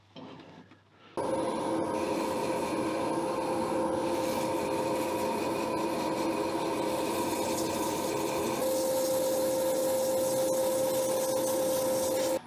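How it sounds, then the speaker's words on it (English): Sandpaper rubbing the end of a turned wooden box spinning on a lathe, a steady close rasping hiss over the motor's hum, starting abruptly after a second and continuing evenly. "tidy up that end where the tailstock is, which I'm going to do with sandpaper"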